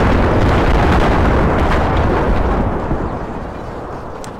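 Grenade explosions in the strategy game Empire Total War, a loud, continuous wash of overlapping blasts and rumbling booms that slowly fades toward the end.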